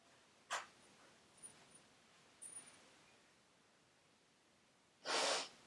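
A dog named Bond sniffling: a few quick, short nasal sniffs, then a louder, breathy snort near the end, close against quiet room ambience.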